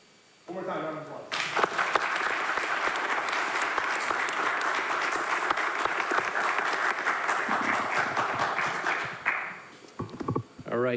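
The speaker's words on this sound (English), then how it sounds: "One more time, round of applause." Applause from the audience at a town council meeting: a brief spoken lead-in, then a sustained burst of dense clapping lasting several seconds before it tapers off and a voice resumes.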